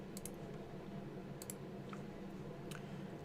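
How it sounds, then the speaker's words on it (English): A code is typed on a computer keyboard as a few quiet, sparse key clicks in a calm room. "so I gotta just type it in."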